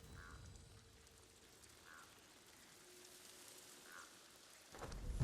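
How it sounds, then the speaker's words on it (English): Steady rain with a low rumble of thunder in the video game Ghost of Tsushima, a soft continuous wash with faint tonal chirps, swelling louder near the end. "It's really raining out here."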